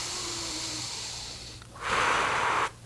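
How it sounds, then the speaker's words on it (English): Slow, deep conscious breathing up close: a long quiet exhale, then a loud, rushing breath with a breathy hiss that stops abruptly, heard alone. "start breathing consciously, to start controlling your breathing"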